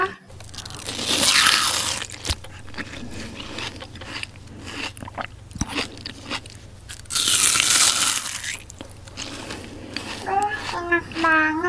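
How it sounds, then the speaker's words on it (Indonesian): Crunchy kerupuk cracker being bitten and chewed in a mukbang-style eating session, several loud crackly crunch bursts in close-up, with a voice talking briefly near the end. "Kalian dengar kan suara itu, kriuk banget."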